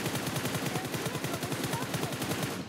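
Rapid automatic gunfire in the mobile battle-royale game PUBG Mobile, a steady rattling burst of evenly spaced shots running close and loud for nearly the whole stretch before cutting off.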